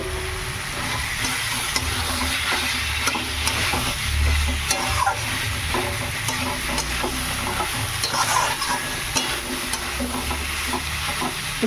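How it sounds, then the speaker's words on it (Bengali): Fried potatoes and soybean chunks being stir-fried together in hot oil, with a steady, close sizzle and the scrape of stirring running throughout. "সঙ্গে এই সয়াবিনটাও দিয়ে দিচ্ছি।"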